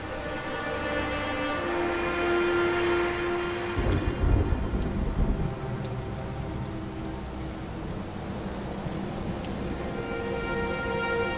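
Steady rain pours and a deep thunder rumble rolls through midway in the noir detective video game Blues and Bullets, with a faint tonal music bed holding underneath throughout.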